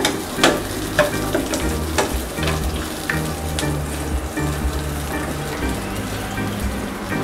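Curry leaves sauté in a hot pan for a chutney, giving a steady close sizzle and crackle with occasional sharper pops and scraping stirs throughout, no voices.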